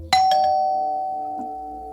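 An electronic home doorbell sounds a bright two-tone chime, close and loud, its second note ringing on and slowly fading, with a faint extra tone near the end and no one speaking.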